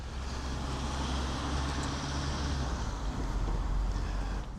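A V8 Audi S5 idles steadily nearby, a deep continuous low rumble with an even, unbroken drone throughout.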